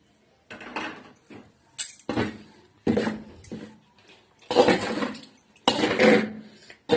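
Pearl millet flour is worked together with turmeric water in a bowl for sajja rotte, giving intermittent scraping and clinking bursts of mixing, close and fairly quiet, separated by brief pauses.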